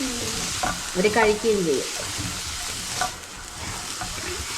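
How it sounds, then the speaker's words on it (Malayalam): Shredded cabbage stirred in a hot frying pan sizzles steadily close up, with a brief scrape of stirring and a voice speaking over the frying now and then. "ക്യാബേജും കൂടെ ഇട്ട് നന്നായിട്ട് ഇളക്കി കൊടുക്കാം"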